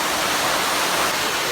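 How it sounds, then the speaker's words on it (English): Pembok Waterfall in Pai pours in a steady, dense roar of rushing water, loud and close, with no voices over it. "So, we're finally at Pembok Waterfall."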